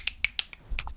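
A series of sharp, crisp finger snaps, about five in quick uneven succession, close and clear with little else behind them.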